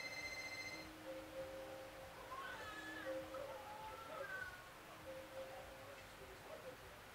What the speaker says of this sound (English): your phone's ringing